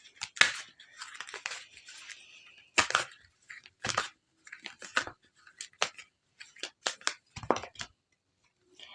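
Tarot cards being handled and shuffled close up: quick papery riffles, flicks and slaps in irregular bursts with short silent gaps between them, fairly faint overall.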